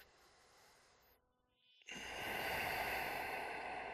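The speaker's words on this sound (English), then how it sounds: "Just a few deep breaths here." A long, slow, deep breath during a yoga hip stretch, a soft exhale followed by a quiet pause, then a louder, steady breathing hiss close to the microphone.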